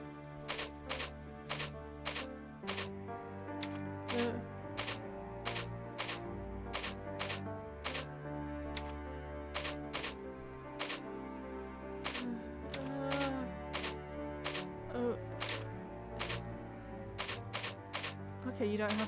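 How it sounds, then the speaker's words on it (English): Rapid, sharp key clicks from a computer keyboard during a fast-typing puzzle in a Nancy Drew mystery game, coming in quick irregular bursts that are crisp and close over faint background. "Using your keyboard as fast as you can, type whatever appears in the balloons on the screen."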